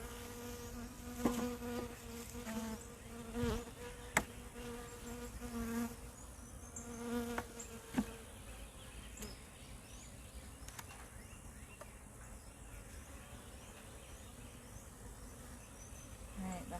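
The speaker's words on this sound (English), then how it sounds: "the highest concentration of bees" Honey bees buzzing steadily around their hives, a dense close hum with individual bees whining past the microphone, and a few sharp knocks in the first half.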